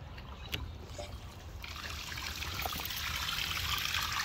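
Water runs in an empty three-bedroom house, a steady hissing trickle that grows louder and fuller partway through, close by with no talking.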